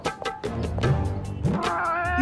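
Cartoon cat meowing in a drawn children's detective adventure, a couple of short rising mewls and a longer wavering cry, close and fairly loud over light background music.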